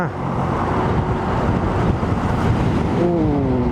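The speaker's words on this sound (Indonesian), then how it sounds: "Luar biasa kenceng anginnya" Strong wind roars steadily against the microphone over road and engine noise while passing a truck on the Pantura highway in Java, with a faint tonal whine rising near the end.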